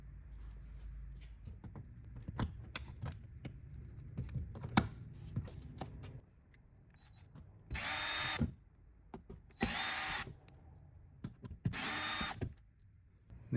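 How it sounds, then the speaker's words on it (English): Electrical connectors being unplugged from a Mitsubishi Outlander door panel, heard as a run of close, sharp plastic clicks and handling rattles, followed by three louder bursts of rustling scraping noise, with no talking. "Before removing those screws, you want to disconnect these 2 connections right here."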